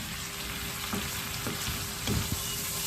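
Alexandrian-style liver and peppers fry in a hot pan, a close, steady sizzle broken by a few short stirring scrapes.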